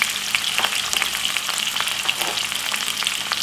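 Mixed vegetables — white onion, tomato, spring onion and peppers — sizzle and crackle steadily in a hot pan, a dense, loud frying hiss with small pops throughout and no voices.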